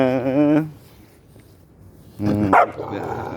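Dogs guarding cattle in a small cow pen bark and snarl at each other: a loud harmonic bark, a quiet gap, then another burst of barking with growly whining, close by.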